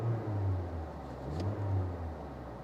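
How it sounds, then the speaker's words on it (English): A car engine, idling with an OBD2 scanner plugged in, gets a blip of gas and swells into a steady low rumbling rev, close and alone, with no talk. "I'm gonna give it some gas so you can see that number move"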